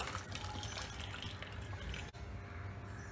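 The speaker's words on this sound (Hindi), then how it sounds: "अब एक छन्नी लेंगे और इसमें डाल देंगे" Boiled water and raw banana peels tipped from a pan into a strainer, a steady rushing pour of liquid that runs close and fairly loud for about two seconds, then breaks briefly and continues.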